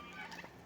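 A farm turkey gobbling very faintly and far off, one brief rippling call in a quiet outdoor setting.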